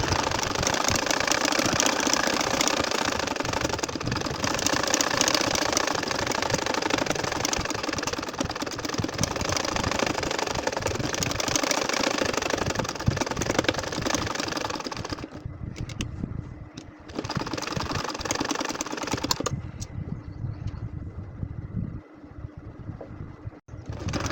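A sewing machine stitches a nakshi kantha design, running loud and continuous for most of the clip, then easing into quieter, intermittent bursts near the end as the fabric is turned to sew curving petal lines.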